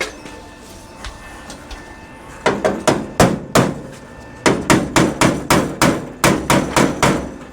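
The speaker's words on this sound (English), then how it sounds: "Oh, I do have a body hammer." Repeated sharp metallic hammer strikes from a body hammer on car body metal ring out close by, first a few scattered blows, then a steady rapid series of evenly spaced hits.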